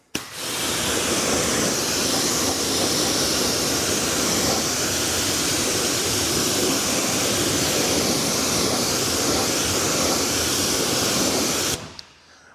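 Steady, loud broadband rush of water spraying onto a car wheel protected with a ceramic coating, a continuous hiss lasting about twelve seconds before cutting off abruptly.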